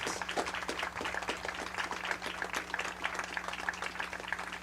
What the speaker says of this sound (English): please let's give one more round of applause for our senior baseball players and their parents